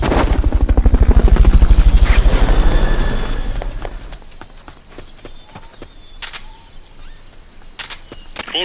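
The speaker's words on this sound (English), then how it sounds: "Fulton recovery helicopter is complete." A Fulton recovery helicopter in the video game Metal Gear Solid Peace Walker thumps with loud, rapid rotor beats that fade away after a few seconds, leaving quiet game ambience and scattered clicks.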